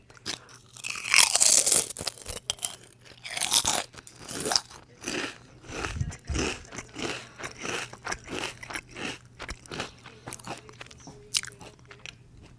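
Close, loud crunching of potato chips, with continuous crisp bites and chewing and no talking.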